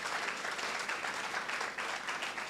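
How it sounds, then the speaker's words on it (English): Women gathered for the launch of a ladies' network in Ghana clap together in a steady, dense round of applause at a consistent, fairly loud level, with no speech over it. "Please, ladies, let's clap ourselves and give us a huge shout out"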